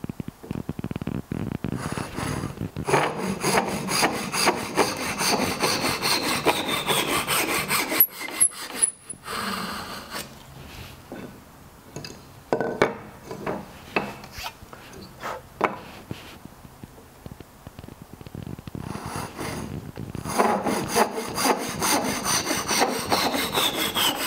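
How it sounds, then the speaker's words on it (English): Hand saw cutting off the tenon haunches on a wooden shoji frame: steady rhythmic rasping strokes, loud and close, in several bursts with short pauses between them, no talking. "Once you've marked the tenons and the haunches, just cut down and cut the haunches off."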